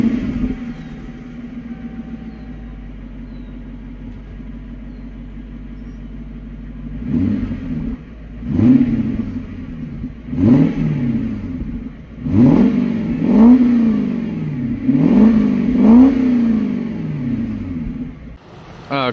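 A Lexus SC400 engine idles steadily before revving in a series of about six rising and falling blips, each swelling loud and dropping back to idle, close by with no talking.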